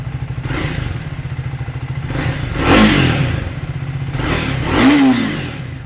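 A Triumph Speed 400 motorcycle idles with a rapid, steady putter close by, then swells through two sharp throttle blips a couple of seconds apart before settling back to idle.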